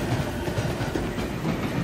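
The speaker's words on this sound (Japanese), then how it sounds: "本日は国鉄型電気機関車が電車を経引してくるということです" A Japanese National Railways-type electric locomotive hauling electric multiple-unit cars rumbles past on a freight line with a steady low roar and faint clattering of wheels over track joints, moderately distant, with no voices.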